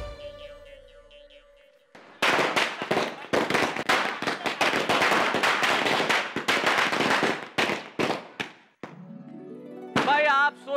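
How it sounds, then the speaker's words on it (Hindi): A long string of firecrackers bursts near and loud in a dense run of sharp cracks lasting several seconds, thinning out toward the end, followed by a brief stretch of music. "बिना दिवाली के पटाखे क्यों छोड़ रहे?"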